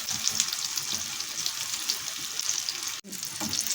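Meatless kofta fries in hot oil, making a steady, dense crackling sizzle with small pops, close and uninterrupted apart from one brief dropout near the end.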